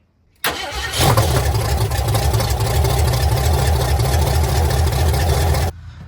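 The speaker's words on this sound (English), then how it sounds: "We're gonna fire this thing up and see if the mechanical fuel pump is working." A 1985 Jeep CJ7 engine, run on a mechanical fuel pump fed from a jug, cranks briefly and catches, then roars into a loud, close, steady rumbling idle before cutting off abruptly.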